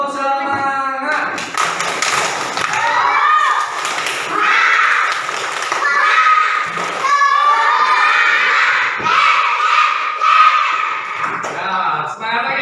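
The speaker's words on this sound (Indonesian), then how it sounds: "Kita tepuk semangat lagi." Children in a classroom chant a loud spirit cheer together, their shouting voices mixed with scattered sharp claps and taps throughout.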